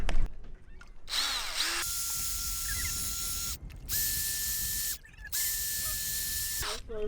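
Power drill enlarging holes for dinghy davits on a sailboat, whining in three sustained runs at a steady pitch with brief stops between them, close and fairly loud.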